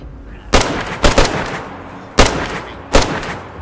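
Five loud gunshots in the DayZ video game crack out close by in an irregular rhythm, two quick pairs and a single, over a low ambient hum, no talk.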